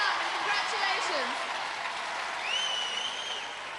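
Studio audience applauding a contestant on the 1994 UK Gladiators television show, steady broadband clapping throughout with a whistle or cheer rising near the end, fairly close and continuous.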